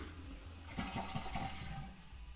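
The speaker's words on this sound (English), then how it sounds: "As we pull it to flush." A toilet flushes after its flapper chain has been adjusted to leave slight slack, a steady close rush of swirling water that starts abruptly and continues strongly throughout the short stretch, with no voices.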